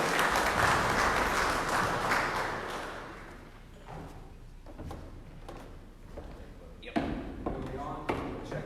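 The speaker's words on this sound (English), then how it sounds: "Everybody give him a round of applause" Congregation applauding a preacher in church, loud dense clapping that tapers off over the first few seconds, followed by scattered claps, thumps and people talking.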